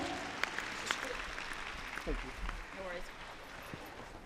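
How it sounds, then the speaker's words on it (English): Arena crowd at Crufts cheering and applauding a dog's run in the large international jumping competition, a broad steady roar with scattered louder claps and a few whistles or shouts throughout. "Let's give them a cheer, ladies and gentlemen."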